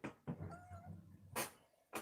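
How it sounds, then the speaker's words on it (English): An old pet cat gives a few meows, close and fairly clear, with short bursts of handling noise around them and no talk. "This is my cat. He's an old cat too."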